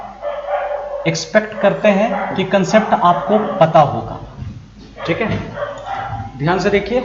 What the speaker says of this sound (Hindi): बगल में कुत्ते भी भौंक रहे हैं।